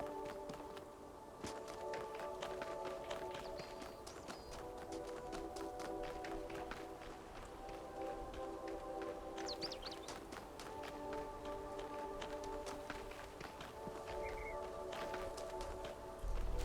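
Footsteps of a character walking and running in the video game Talos Principle 2, a steady stream of light rhythmic taps over sustained tonal game music, moderately faint and without talk.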